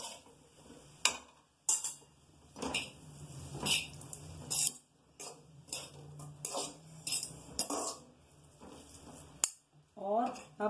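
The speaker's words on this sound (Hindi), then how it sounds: "और इसको बहुत अच्छे से मिक्स कर लेंगे" Maggi noodles being mixed with spices for a chowmein-style dish, with a spoon or utensil scraping and clinking against a pan or bowl in irregular bursts, fairly close and moderately loud.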